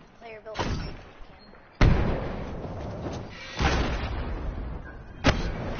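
Heavy cannon blasts from a pinball-style video game, three sharp booming thuds at roughly even intervals, each followed by a rumbling decay, with faint game sounds between.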